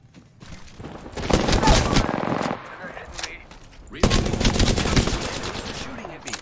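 Automatic gunfire from an Apex Legends match, heavy bursts of rapid shots rolling out for a few seconds, a brief lull, then another loud sustained volley, with a player talking amid the firing.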